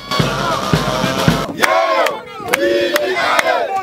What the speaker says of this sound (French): une foule immense en liesse est venue l'accueillir, scandant de chants